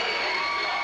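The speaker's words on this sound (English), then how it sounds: "The crowd here is just deafening right now." A packed high school basketball gym erupts as the crowd cheers and screams loudly and continuously, a dense wall of voices at a Hastings versus North Salem game.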